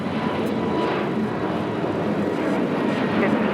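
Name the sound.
airliner taking off at LAX airport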